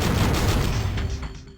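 Gauss cannon in the video game Descent fires a rapid burst of sharp repeated blasts, loud and dense, trailing off into a fading roar.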